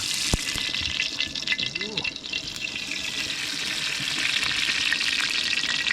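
Oil poured onto a hot stone for frying masala-coated tarpon fish makes a bright, hissing spatter with a short pouring gurgle early on, then a steady crackling sizzle that grows slightly louder, close by.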